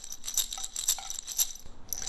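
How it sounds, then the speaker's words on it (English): A homemade shaker filled with small bits of dried pasta rattles in quick, crisp bursts of dry clicking, loud and close, with no voices. "like this one has dried pasta in it, it'll sound like this."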